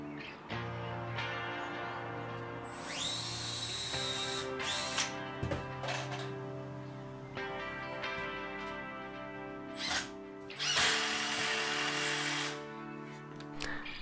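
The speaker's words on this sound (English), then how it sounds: "I can drill another pilot hole and put more screws in." A power drill bores a pilot hole and drives screws into a wooden loft ladder for a tiny house bed deck, with whining motor bursts, ratcheting clicks and pauses between runs, faint and close.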